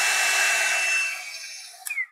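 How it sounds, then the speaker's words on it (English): A rotating hot air brush runs with a steady broadband whoosh of blown air, loud and constant, then eases off and ends with a brief click and a short whine as it is switched off. "It's supposed to be like a hair dryer or hair blower, but it has a rotating brush"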